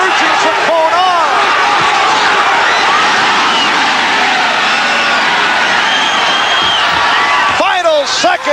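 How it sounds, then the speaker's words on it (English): Boxing crowd at a 1983 super featherweight title fight roaring and cheering, urging a fighter on after a knockdown, a loud continuous din with a sharper burst of shouting near the end. "Cornelius Boza Edwards says he's all right, but crowd urging Chacon on"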